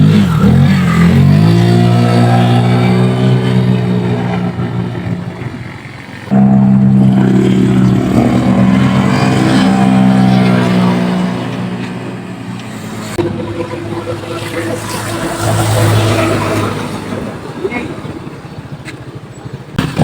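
A Honda ADV scooter fitted with a Euro Griffin 180 primary gear on a top-speed run, its engine droning and rising in pitch as it accelerates, with someone talking over the ride.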